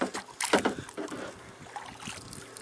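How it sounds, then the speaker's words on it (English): A kayak paddle dipping and splashing on Abiquiu Lake in New Mexico, a few soft close strokes and drips over light wind noise. "I'm holding a camera and paddling a kayak paddle with one hand"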